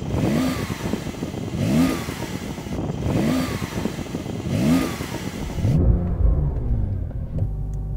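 A Porsche 911 Turbo S engine revs repeatedly against a soft 4,500 RPM limiter at a drag race, four loud rising pulls in steady rhythm, then settling to a lower rumbling idle.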